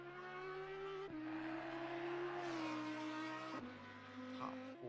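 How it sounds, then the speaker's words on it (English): A GT-class endurance race car in a racing video game slides with its back end stepping out, the engine droning steadily with gear-shift drops and a rising rush of tire scrub, loud and close, no talk. "Oh, big slide, and the back end comes out"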